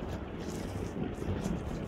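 Strong wind gusts over the water at Mokpo north harbor, a steady low roaring rush buffeting the microphone throughout, with no voices.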